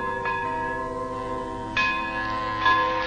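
A church tower bell strikes the hour, three loud ringing strokes in slow succession with long, shimmering tones that overlap and sustain between hits.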